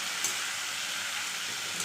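Winter leafy greens being stirred in a hot pan, a steady hissing sizzle with faint scraping, even and close throughout a short stretch.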